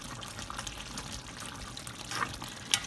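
Water poured into a pot of chicken curry with potatoes, a steady soft splashing and trickling close by, fairly quiet and continuous without talk.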